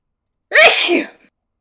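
A single loud, close sneeze bursts out in otherwise silence.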